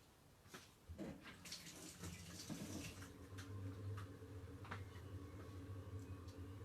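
Naturally dyed material being rinsed and washed in water, with splashing and running water in a sink or tub, fairly close and steady, with no talk.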